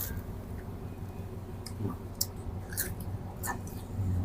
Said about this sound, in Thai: กินกับน้ำตก